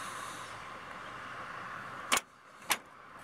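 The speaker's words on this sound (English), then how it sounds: "We're going to let the door shut here." Door of a 1947 Chevrolet Fleetline Aero Sedan pushed gently shut, two short soft clunks about half a second apart over quiet background hiss.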